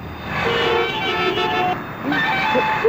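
Busy road traffic with car horns tooting over a steady roar of passing vehicles, horns sounding close and repeatedly, with a brief voice mixed in.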